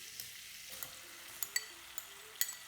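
Mushrooms and onions fry together in melted butter for poutine sauce, a soft steady sizzle with scattered sharp pops and light stirring clicks, close up and without talk.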